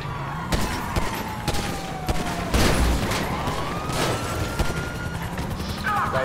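A police car siren wails in GTA 5 Online amid game action, its rising and falling tone sweeping under repeated sharp gunfire bursts and a crash, all busy and fairly loud.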